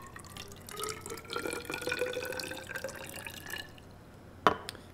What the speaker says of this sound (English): I'm going to dump the water back out